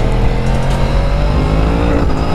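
A motorcycle cruises on a French autoroute, its engine a loud, close, continuous drone mixed with rushing wind and no pauses.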